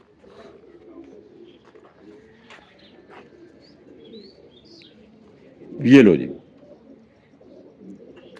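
A prized pigeon in Pakistan gives one short, close coo amid faint background chatter, while someone talks quietly around it.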